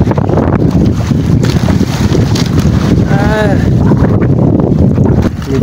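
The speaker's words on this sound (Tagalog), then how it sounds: "Lakas na ng amihan." Strong northeast monsoon wind roars across the open sea around a boat, a loud, constant buffeting rush with heavy wind noise on the microphone.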